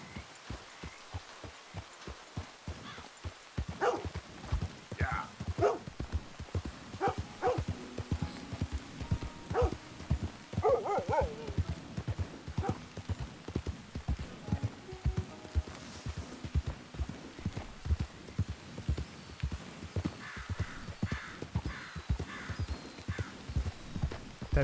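A war horse's hooves clip-clop steadily in Red Dead Redemption 2, a regular, close, fairly quiet walking rhythm of distinct hoof strikes that begins after a brief pause and continues throughout, with faint ambient game sounds behind.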